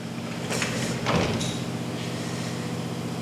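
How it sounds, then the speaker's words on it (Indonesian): A door being opened indoors, giving a couple of brief scraping, sliding sounds over a steady low hum, with no talking. "Saya sedang membuka pintu."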